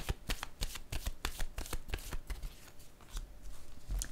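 Playing cards from a deck being handled and drawn during a tarot-style reading, a rapid series of crisp snapping flicks and riffles, close and fairly loud, with no talking over them.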